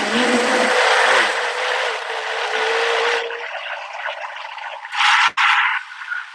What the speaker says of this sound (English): the other blender literally would blend better at the very beginning, but this one eventually will get it